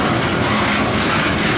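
A CSX freight train hauling ethanol loads on a former P&N line rolls past close by with a loud, steady roar of rail noise.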